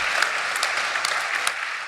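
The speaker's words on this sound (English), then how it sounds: "I think they all deserve a round of applause" Audience applause at the close of the NXTGEN Hightech Conference: steady, dense clapping from a crowd, filling the room at an even level throughout with a few sharper claps standing out.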